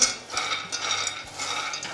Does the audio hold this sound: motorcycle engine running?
no